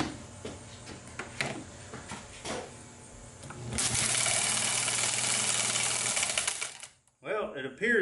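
Electric motor spinning up on 240 volts while rigged as a single-to-three-phase power converter, a loud steady whirring hum with a high whine that begins partway through after clicks and fumbling, then cuts off abruptly.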